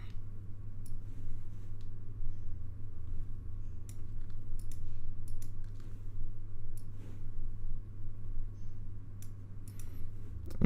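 Computer mouse and keyboard clicks while working in After Effects: sparse, sharp, quiet clicks scattered irregularly over a low steady hum, close by and without talk.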